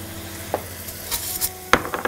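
Onions browning in butter and oil in a pot, a quiet background sizzle punctuated by several crisp spoon clinks and scrapes against the pot, close by.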